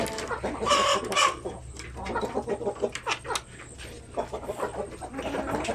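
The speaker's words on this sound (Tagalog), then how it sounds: "Okay, so nandito pa yung iba nating mga manok." Chickens on a farm, including Black Australorp and Basilan native birds, cluck and squawk busily at close range, with a rooster crowing among them and no talking.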